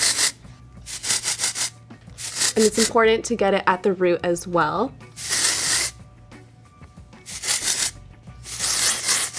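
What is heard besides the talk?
Bumble and Bumble thickening dry texture spray sprayed on hair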